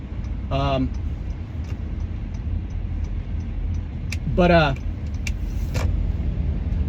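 A car drives past the west side of Patterson Park, with a steady low road and engine rumble from inside the cabin and a few brief tonal chirps rising over it.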